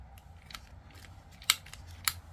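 Scissors snipping thin paper in two crisp, close cuts about half a second apart, set among quieter rustling and handling noise.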